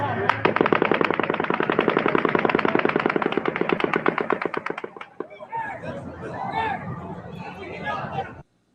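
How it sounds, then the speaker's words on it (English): A long, rapid burst of automatic gunfire from Mandalay Bay in Las Vegas in a steady rhythm for several seconds, then it stops and confused crowd voices and chatter follow. "12th and final volley of automatic gunfire from Mandalay Bay begins."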